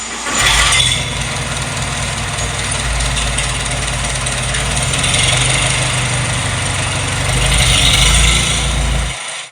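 A Farmall 300 tractor with a rebuilt engine starts and settles into a loud, steady idle, its low chugging throb continuous and close throughout, with a few brief louder swells.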